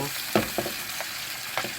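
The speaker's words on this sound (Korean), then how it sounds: "너무 많이 튀기면 안 돼요 너무 많이 하면 안 돼요 특히 베이컨 같은 경우에는" Garlic and bacon fry in oil in a pan with a steady, fine crackling sizzle, broken by a few louder pops and stirring scrapes, close up and alone.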